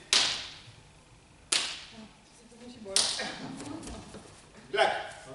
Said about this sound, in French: on doit entendre ce petit claque